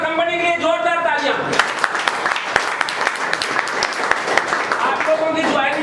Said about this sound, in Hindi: एक बार कंपनी के लिए जोरदार तालियां।